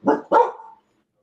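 A dog barks twice in quick succession, close and fairly loud, and then the room falls silent.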